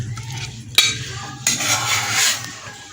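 Spoon scraping cooked masala kaleji out of a pan into a serving dish, with two sharp metallic clinks over a steady low hum and soft scraping.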